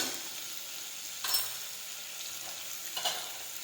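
Bottle gourd sautéing in a pan, giving a steady background sizzle with a couple of brief stirring scrapes from a spoon, fairly quiet and with no one speaking.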